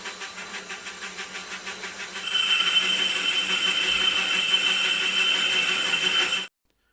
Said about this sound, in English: I'm machining the little locator that'll fit down inside the body of the generator to help keep it centralized